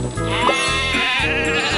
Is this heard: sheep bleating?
yes